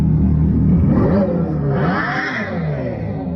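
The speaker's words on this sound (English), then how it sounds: "So a lot of electric cars make like a V8 engine sound" Synthetic V8-style engine tone played by an electric car, a steady loud rumbling drone that swells in pitch as if revving, continuous and alone without any voices.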